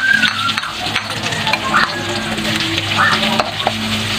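Ginger sautéing in a pan for a spicy chicken Bicol Express, a steady close sizzle and crackle with occasional stirring scrapes, no voice over it.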